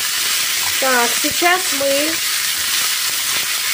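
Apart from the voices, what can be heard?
rice and vermicelli frying in a pan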